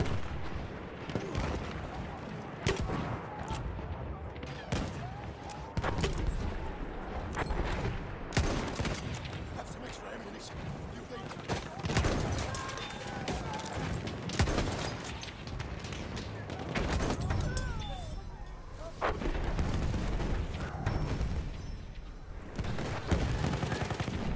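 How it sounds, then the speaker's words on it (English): Battlefield 1 battle din with near-constant gunfire and machine gun bursts, sharp cracks and rolling booms overlapping for the whole stretch, loud and dense, with shouted voices faintly in the mix. "Machine gun!"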